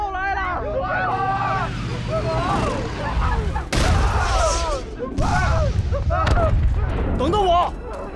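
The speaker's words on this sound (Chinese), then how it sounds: "又炸了，炸弹又来了！" Bombs explode during a wartime air raid, heavy booming blasts breaking through shouting and frantic voices, with several loud impacts spread across the scene amid the chaos.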